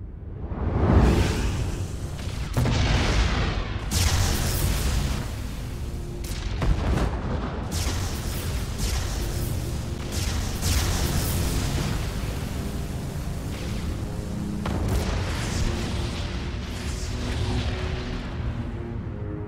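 Protoss warp ray beam weapons firing at enemy structures in StarCraft II, a dense, continuous roar of energy blasts and booming impacts with repeated sharp bursts, loud and sustained throughout with no talking.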